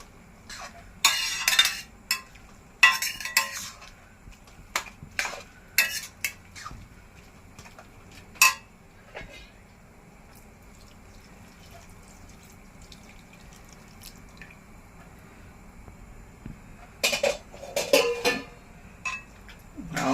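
One kilo of grated carrots being stirred with half a litre of full-cream milk in a pan for traditional sugar-free gajar halwa: scattered clinks and scrapes of a spoon against metal, with soft wet drips and quiet gaps between.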